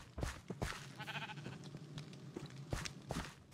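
Sheep bleating in the Minecraft video game, a few short wavering bleats close by over a soft ambient background.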